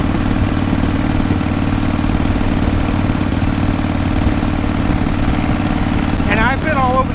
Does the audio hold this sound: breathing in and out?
no